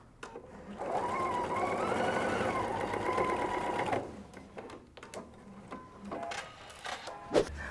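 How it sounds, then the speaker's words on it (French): A sewing machine stitches a fabric sleeve, running in one steady whirring burst of about three seconds, then stopping. Quieter handling noises and light clicks of fabric being adjusted follow. "pendant que j'essaie de coudre."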